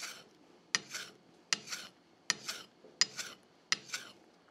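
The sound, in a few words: sashimi knife edge being honed on a whetstone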